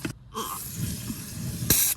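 Coil cleaner is sprayed onto a Tesla's HVAC coils in short hissing bursts from an aerosol can, close and crisp, with a final strong spray at the end.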